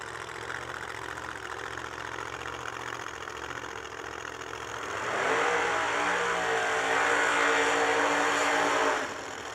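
A drag race car engine at the Yellow Bullet Nationals 2022 idles with a low, steady rumble, then swells louder for several seconds before dropping back. It is heard at moderate distance, with no talk.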